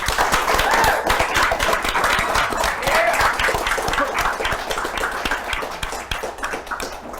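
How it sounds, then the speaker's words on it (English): A big round of applause from the audience at a Valiant Comics publishing panel at Valiant Summit 2017, dense, loud clapping that carries on steadily and fades slightly toward the end. "Let's have a big round of applause for Mr. Eric Heiser."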